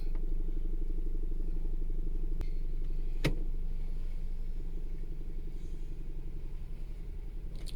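Car engine running steadily during a test drive after a battery swap and idle problem, a low continuous rumble with faint clatter, moderately loud and alone with no voices.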